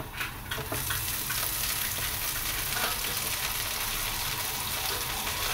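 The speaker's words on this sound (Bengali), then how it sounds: "তো পেঁয়াজটা একটু ভাজা হোক, শাকটা তুলে দেবো।" Onion frying in a pan before leafy greens go in, a dense continuous sizzle close up, with a brief clatter of stirring at the start and no voices.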